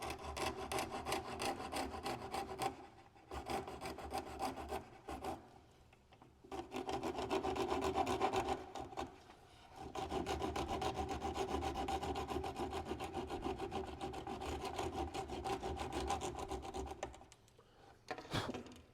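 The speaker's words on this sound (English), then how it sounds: "So I'll just use a pull saw here." A pull saw cuts off about a quarter inch from the end of a bulb, its dry rasping strokes coming in steady bursts with brief pauses between them, close and fairly loud with no talk.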